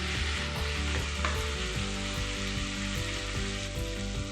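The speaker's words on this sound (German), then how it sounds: "Gebratenes Hähnchenfleisch noch dazu, rühren, die Pfanne schwenken," Pieces of chicken for Kung Pao chicken sizzle loudly in a hot wok, with continuous crackling and the scrape of stirring and tossing throughout.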